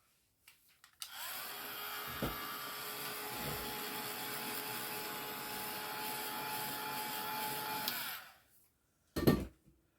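A hair dryer aimed at paint for a distress stain craft project whirs steadily at close range for about seven seconds, then cuts off, with soft handling knocks before and after and no talk.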